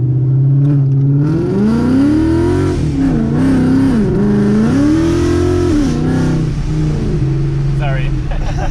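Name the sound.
Ford Mustang engine revving to 2000 rpm then released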